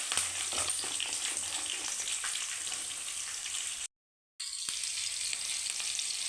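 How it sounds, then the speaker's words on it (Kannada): Finely chopped onion fries in a pan for lemon rice, a steady close hiss and crackle that cuts out briefly into silence before resuming at the same level. "ಈಗ ಇದಕ್ಕೆ ಸಣ್ಣದಾಗಿ ಹಚ್ಚಿರೋ ಈರುಳ್ಳಿ ಸೇರಿಸ್ಕೊಂತ ಇದ್ದೀನಿ"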